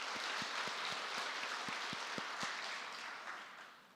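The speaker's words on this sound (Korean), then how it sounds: "박수를 올리겠습니다." A church congregation applauding during a Sunday worship service, a soft, fairly distant patter of clapping with a few individual claps standing out, tapering off toward the end.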